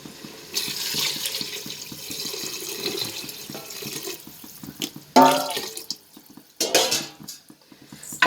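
Water is poured into a pot of rice for tomato biryani, a steady splashing stream followed by a couple of sharper sloshes and clinks of metal cookware.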